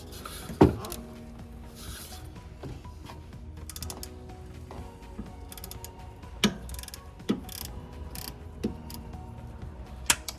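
A ratchet loosens a 12 mm bolt on the drive belt tensioner of a Toyota Highlander 2.7L four-cylinder, giving close, rapid metallic clicking with a few sharper knocks between strokes and no speech.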